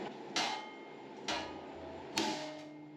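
Three sharp strikes from a Toughbuilt hammer, evenly spaced about a second apart, each a loud metallic crack over a quiet, steady background hum.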